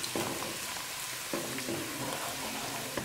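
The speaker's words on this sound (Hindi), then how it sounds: "थोड़ा सा लहसुन को फ्राई करेंगे" Garlic frying in hot oil in a pan, a close, steady crackling sizzle with a few soft stirring scrapes and no voices.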